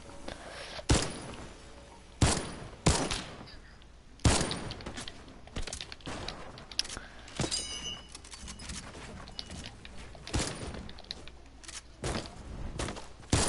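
Rifle shots in a video game, a string of sharp, loud individual cracks fired at irregular intervals a second or two apart, with quieter clicks and rustles between them.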